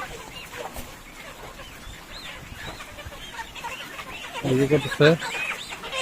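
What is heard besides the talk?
chickens clucking while being caught on a farm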